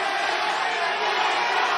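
A packed arena crowd at AEW Dynamite roars during the Eddie Kingston vs Kazuchika Okada match, a broad, steady wall of cheering with no breaks, heard from within the crowd.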